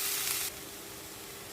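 Tomatoes sauté in a pan with a steady soft sizzle, a brief brighter hiss at the start, faint and close, without talk.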